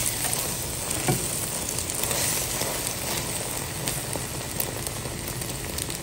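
An egg frying in butter in a pan gives off a steady close sizzle and crackle that stays even throughout, with no voices.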